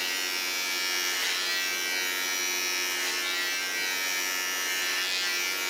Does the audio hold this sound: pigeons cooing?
no